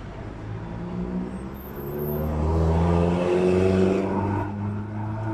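A car idling and creeping forward in a long vehicle queue at the Nogales border crossing into Arizona, a steady low engine hum that swells louder midway then eases, close by, with no talk.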